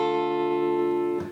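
A minor barre chord rooted on the fifth string strummed once on an acoustic guitar, ringing steadily for about a second before being damped, close and clear with no voices.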